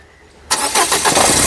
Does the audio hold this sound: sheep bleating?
no